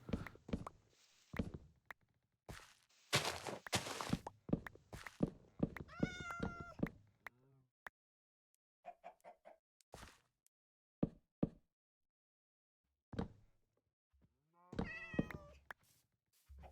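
A cat meows repeatedly in the Minecraft video game, with several distinct mews and short yowls spaced irregularly among soft knocks, thuds and footstep-like clicks, and gaps of near silence between them.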